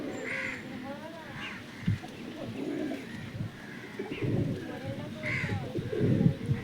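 Panja pigeons in a loft, cooing and calling with soft repeated coos and a few harsher calls, fairly close, while someone talks over them through much of the stretch.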